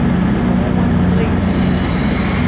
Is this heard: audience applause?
no